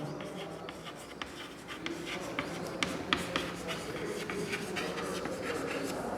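A pen scratches across paper as a Pythagoras theorem solution is written out in a maths lesson, with quick faint strokes and taps over a steady room background.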